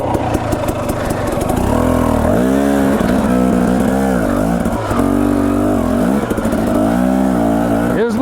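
A dirt bike on single track along the Boise River in Idaho, its engine droning loudly and rising and falling in pitch through repeated revs, close-miked with wind buffeting throughout.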